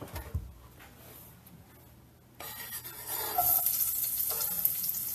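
Onions drop into a hot pan during a breakfast cook and start frying. Quiet rubbing comes first, then a sudden rise into a steady, faint sizzle that carries on to the end.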